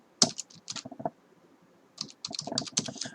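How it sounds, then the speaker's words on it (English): Quick clicking keystrokes on a computer keyboard while entering a database filter in SQL Server Profiler, in two close bursts separated by a short pause, with no talking. "Click like and then type the database here"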